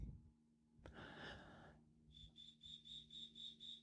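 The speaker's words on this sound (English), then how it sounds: "You hear that, cricket?" A cricket chirps in a steady, evenly pulsed series of high, thin trills that start partway through, close and fairly clear over a faint low hum, after a brief burst of breathy noise.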